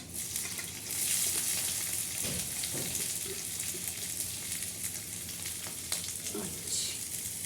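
Onions and green chillies frying in hot oil for a bitter gourd (karela) dish, a steady close sizzle with faint stirring scrapes throughout, no talking.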